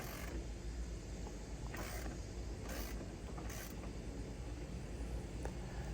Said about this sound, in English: go ahead and jack up the vehicle